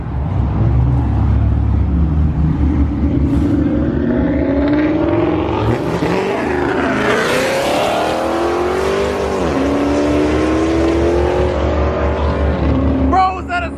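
A 1600-horsepower twin-turbo Lamborghini Aventador accelerates hard away from a cars and coffee meet in Cypress, its engine roaring loud and close as revs climb through shifts, with people talking over it.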